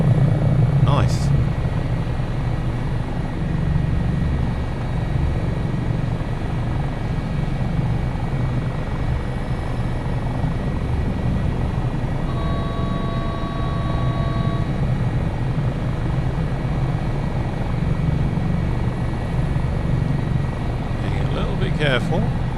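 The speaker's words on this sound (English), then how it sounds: "so the helicopter must be automatically compensating for it maybe" An HH-65 Dolphin Coast Guard helicopter flies over Valdez, Alaska in Microsoft Flight Simulator 2024, its rotor and turbine drone steady and close throughout, with someone talking over it.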